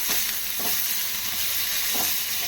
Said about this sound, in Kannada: ಒಂದು ಸ್ವಲ್ಪ ಎಣ್ಣೆಯಲ್ಲಿ ಫ್ರೈ ಆಗಲಿ